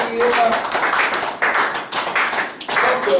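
Applause and acclamation inside a church during a French-language Pentecost service: a dense patter of clapping hands rising and falling in waves, close and loud, with voices calling out among it.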